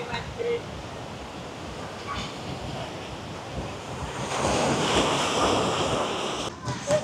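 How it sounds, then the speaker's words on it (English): Waves wash onto Kuta Beach in Bali in the early evening, a broad rushing surf mixed with gusty wind noise that swells louder midway, with faint voices underneath. "that's what you're seeing here on Kuta Beach this evening"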